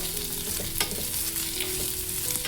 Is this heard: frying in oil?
yes